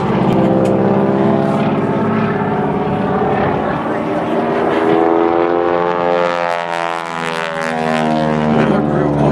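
Warbird aircraft flying past at an air show, a loud droning propeller engine with steady harmonics that shift in pitch as it passes, continuous throughout with a voice talking over it.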